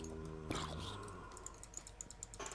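Soft, rapid clicking patters quietly in the background, with a brief voice at the start.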